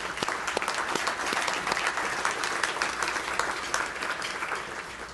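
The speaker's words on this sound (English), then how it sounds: "Let's give them a round of applause," A luncheon audience at a regional chamber of commerce event applauds steadily, a dense, even wash of many hands clapping for the whole stretch without letting up.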